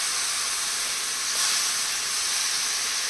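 Beans and potatoes sauté in a hot pan for an aloo-beans sabzi, giving a steady, dense hiss of sizzling oil that holds at an even level throughout with no talking.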